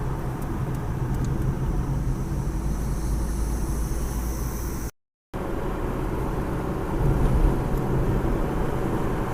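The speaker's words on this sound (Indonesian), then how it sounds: "Kita baru dilalui oleh mobil Avanza putih." A white Toyota Avanza passes on the road, a steady broadband rumble of engine and tyres with a brief dropout midway, then continuing and swelling slightly near the end, heard without talk.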